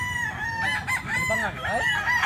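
At a Cebu market selling fighting cocks, a gray gamecock with green leg bands lets out a drawn-out, wavering crow up close, with muffled voices behind it.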